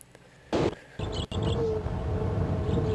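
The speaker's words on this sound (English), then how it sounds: "Why do I hear pigeons?" Pigeons cooing in the video game Myst, soft repeated coos over a steady ambient hum, with a louder burst of game sound near the start.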